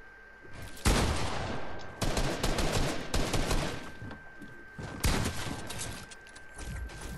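Rapid bursts of video game gunfire, loud and close, in dense volleys separated by short pauses, with no one talking.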